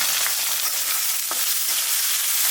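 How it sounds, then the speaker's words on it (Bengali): Onions, green chilies and shrimp fry in oil with a loud, dense, unbroken sizzle close up, with a few faint scrapes of stirring and no voices. "তেলের উপরে পেঁয়াজ কাঁচামরিচ সামান্য বাদামি হলে চিংড়ি মাছগুলো দিয়েও একটু ভেজে নেব"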